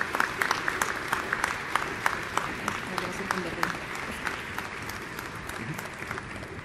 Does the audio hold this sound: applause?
yes